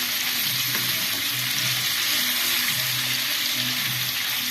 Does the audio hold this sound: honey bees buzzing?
no